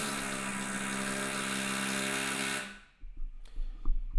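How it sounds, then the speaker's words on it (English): Builders drilling holes nearby, a loud steady whining power drill that stops after a few seconds, followed by scattered knocks and thumps of construction work. "With builders crawling about, drilling holes in things."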